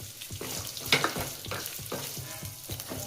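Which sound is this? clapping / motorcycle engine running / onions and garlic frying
onions and garlic frying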